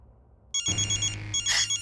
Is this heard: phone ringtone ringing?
yes